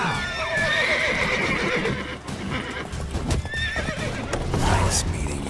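Roach the horse in the video game Witcher 3 gives a shrill whinny at the start and another near the end, with steady clip-clopping hooves and game clatter throughout, close and loud.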